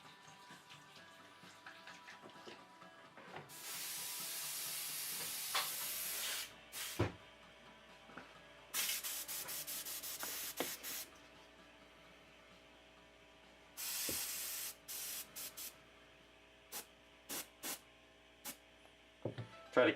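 Short bursts of spray paint hiss as white paint is misted onto the body of a model, three long sprays and several quick puffs separated by quiet handling noises, close and loud with no talking.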